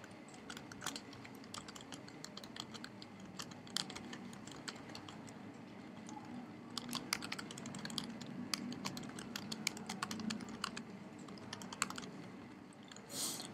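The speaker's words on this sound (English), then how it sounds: "So let me type in" Typing on a computer keyboard at a desk, with steady bursts of quick, light clicks of moderate loudness, heard alone without talk.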